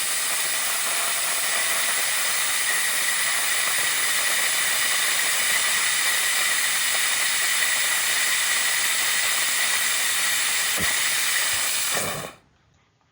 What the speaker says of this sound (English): I can run the video of the run of the engine